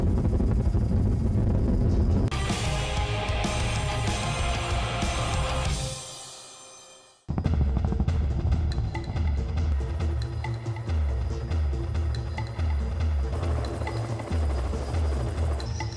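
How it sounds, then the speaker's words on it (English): Loud, steady helicopter rotor and engine roar as it lands on a road near a forest fire, dipping briefly to near silence midway before the heavy whirring returns close by. "We had to land the helicopter in the road"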